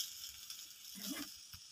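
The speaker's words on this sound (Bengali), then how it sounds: "এখন এটাকে আমি নেড়ে চেড়ে সুন্দর করে ভেজে নিচ্ছি।" Maggi noodles stir-fried in a pan give a soft, faint sizzle, with a brief scraping swell as they are stirred.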